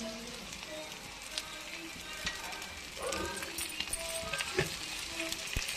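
Chopped okra sizzling and frying in a pan, a continuous crackling hiss with small pops and a few clinks of a utensil, close by, growing slightly louder midway.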